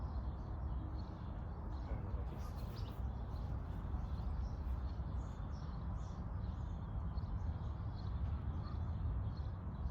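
Birds sing in a plum and apricot orchard, their chirps faint and scattered across a steady outdoor background hiss, with no talking.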